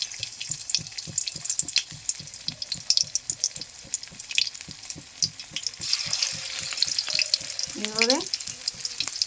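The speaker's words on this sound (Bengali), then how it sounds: "গোল গোল করে গরম তেলের মধ্যে ছেড়ে দিলাম।" Round lentil fritters (bora) dropped into hot oil in a wok, bubbling and crackling steadily up close with rhythmic scraping stirs, while a voice speaks briefly over the frying.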